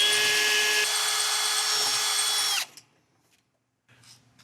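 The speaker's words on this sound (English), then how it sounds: "I'm still gonna go ahead and drill out this rivet" A power drill boring out a rivet runs at a steady high whine for a few seconds, then stops abruptly, leaving near silence and a faint clatter at the end.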